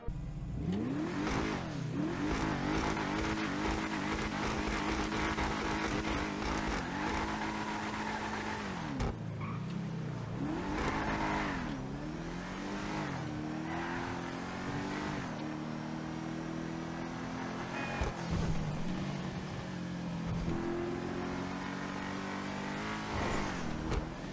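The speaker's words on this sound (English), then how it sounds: "Let's do a little sound test on this vehicle" Engine and exhaust of a VSTR car revving repeatedly, rising and falling in pitch through several throttle blips and longer pulls, loud and close with a throaty drone between revs.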